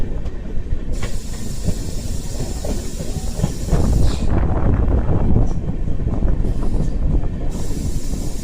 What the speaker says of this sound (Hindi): हाथरस जंक्शन का हाई स्पीड ट्रेन